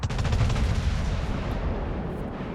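Naval gunfire from the battleship New York in World of Warships booms in one heavy, sustained rumbling salvo with a long decaying tail, loud and close, with no talking.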